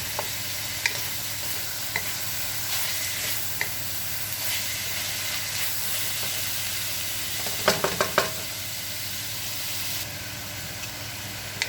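Cabbage and mixed vegetables for a budget shrimp lo mein sauté in oil in a pan, giving a steady close sizzle. Occasional stirring scrapes stand out, with a short cluster of sharper clatters near the end.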